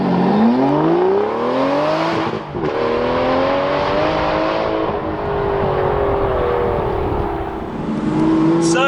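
An Aston Martin V12 Vantage S Roadster accelerates hard with the engine revving up through the gears, a loud, rising V12 wail that dips at a shift and climbs again, heard from inside the car.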